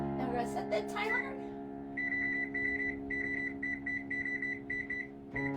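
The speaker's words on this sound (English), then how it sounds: "Now we're gonna set that timer." Kitchen oven timer being set, a series of rapid electronic beeps in short repeated bursts following a brief voice, fairly faint.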